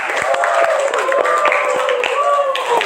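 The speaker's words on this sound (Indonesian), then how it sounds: "kita beri tepuk tangan untuk kelompoknya Bakti" Classroom audience clapping for a student group about to present, a steady dense patter close by with voices talking and calling out over it.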